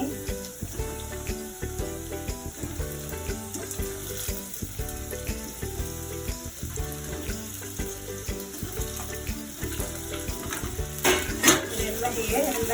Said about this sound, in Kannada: ಇವಾಗ ನಾನು ಬೇಯಿಸಿಟ್ಕೊಂಡಿದ್ದ ಗೋಲಿಗಳನ್ನೆಲ್ಲ ಇದ್ರೊಳಗೆ ಹಾಕ್ತಾ ಇದ್ದೀನಿ.